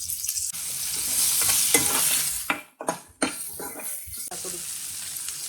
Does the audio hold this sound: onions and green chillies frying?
yes